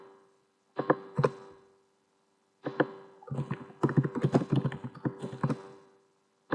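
Keys clack on a computer keyboard: scattered single taps, then a denser run of quick, close clicks with short pauses between bursts.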